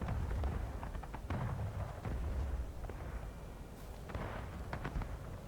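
Enemy artillery fire rumbles through a battle in the video game War of Rights, with deep, distant booms and crackling blasts layered over a continuous noisy din.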